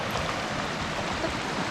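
A small stream of flowing water near a hiking trail in southwest Colorado, heard as a steady, close, broadband wash and gurgle with no voices over it.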